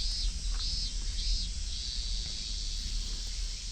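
Cicadas in the ambience of the Higurashi visual novel, a steady high-pitched insect drone with a few rising chirping swells, continuous and moderately loud over a low hum.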